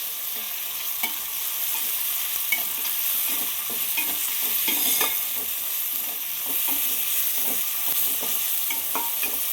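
Chopped tomatoes sautéing together in a pan, a continuous close sizzle broken by frequent clicks and scrapes of a spatula stirring them, with no voices.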